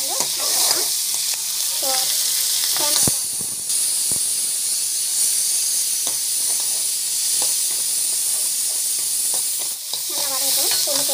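Garlic and onion sauté in a hot pan with a steady, loud hiss and sizzle throughout, broken by occasional stirring scrapes, while a voice speaks intermittently over the cooking.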